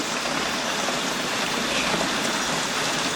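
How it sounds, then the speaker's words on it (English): Heavy rain pours down in a dense, steady hiss with no breaks, loud and close, like a downpour drumming on surfaces. "Right now, it's pouring rain."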